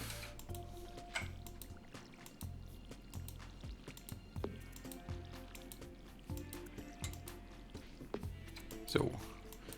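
A watering can sprinkles crops in the farming video game Stardew Valley, with soft repeated splashing and dripping bursts over light game music and occasional clicks.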